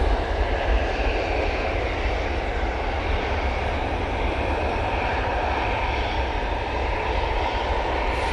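Airplane engine roar at Manchester Airport, a loud steady broadband rumble with continuous jet noise sustained throughout, close by, with no talking.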